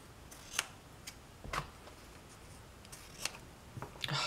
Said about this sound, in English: I think I'll trim it just a little bit.